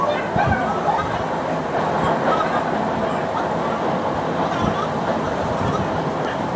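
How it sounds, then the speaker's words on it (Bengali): A metro train rides out from Noapara station, its steady low rumble and rolling hum filling the nearly empty carriage, with people talking over the continuous travel noise. "নিউপেরিয়া থেকে মেট্রো ধরলাম।"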